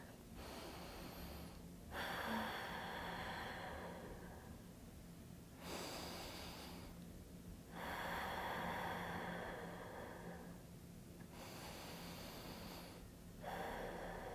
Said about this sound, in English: So go ahead and take a few breaths like this.